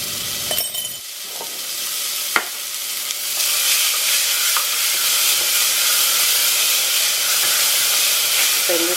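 Carrot, beans and peas fry in a hot pan with a steady, loud sizzle and hiss, with a few clanks of stirring early on and the frying continuing alone.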